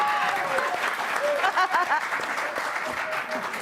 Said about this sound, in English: Should we clap?